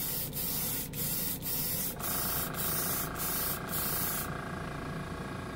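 Gray paint is sprayed in a heavier coat, a steady close hiss broken by rhythmic short pulses of the sprayer, with a machine hum underneath.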